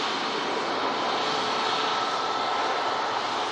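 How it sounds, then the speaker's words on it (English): A Ryanair jet taxis off the runway at a rapid exit at Manchester Airport in thick fog. It gives a steady, broadband engine roar throughout, even and continuous with no talk. "this Ryanair taxis and vacates at the rapid exit"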